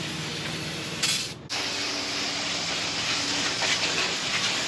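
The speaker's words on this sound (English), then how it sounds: "Just spray it all in here." Degreaser sprayed from an aerosol can onto a junkyard Ford F100 truck, a steady close hiss that runs almost without break, briefly cutting out for a moment before resuming.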